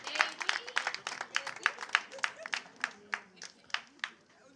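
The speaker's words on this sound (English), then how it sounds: "Can we clap for Fela McAfee?" A small audience at an event honoring a Nigerian film breaks into applause, scattered individual claps forming a loose, uneven patter close by that gradually thins out, with a few voices underneath.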